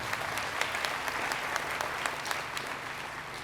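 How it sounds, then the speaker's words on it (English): An audience of thousands of teachers at a summer institute claps steadily, a dense, sustained wash of applause that fills the space without any voice over it. "give yourselves a round of applause"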